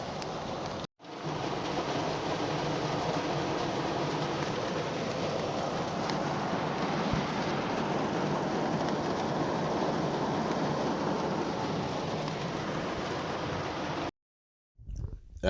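Rain falling on a parking lot during a motorcycle trip, a steady broadband patter that goes on continuously at moderate level, with brief dropouts at the start and end.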